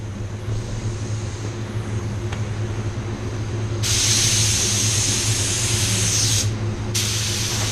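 Spray gun applying a first coat of white pearl paint onto a card, a loud steady hiss starting partway in and running a few seconds, then a second short burst, over a low hum.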